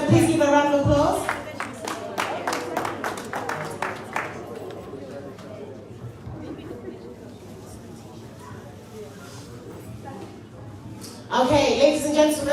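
Applause breaks out from the audience at a town hall fundraiser in Manchester, UK, with a burst of claps that fades into murmuring chatter before a speaker's voice returns.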